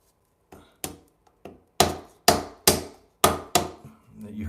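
A hammer taps aluminum Schluter metal edge trim into place on a tiled niche, giving about seven sharp, ringing metallic knocks that grow louder and come in quick succession, close up with no talking.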